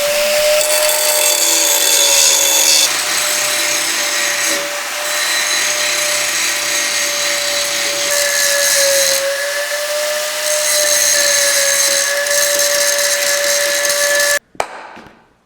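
An angle grinder cuts away bent frame brackets on a wrecked Kubota RTV 1100C, a loud, continuous high-pitched whine of the disc biting into steel that holds steady for about fourteen seconds before cutting off abruptly.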